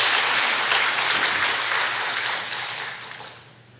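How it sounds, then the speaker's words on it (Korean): Hearty applause from a church congregation fills the sanctuary as a broad, continuous wash of many clapping hands, loud at first and then slowly tapering off. "거기까지 들릴 수 있도록 박수 한번 힘차게"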